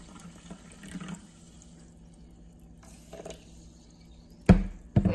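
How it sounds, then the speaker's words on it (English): Sparkling mineral water from Cadia, Italy, poured into a glass, a short close pour with low splashing, ending in a couple of sharp louder bursts near the end. "Let's pour some water in."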